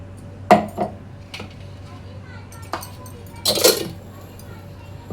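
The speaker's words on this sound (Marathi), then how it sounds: "आता इथे आहे ना आपल्याला हे वाटलेलं कैरीचं मिक्स करून घ्यायचं आहे" A spoon stirs finely ground raw mango mixture in a vessel, giving a few scattered metallic clinks and scrapes at close range, with faint voices in the background.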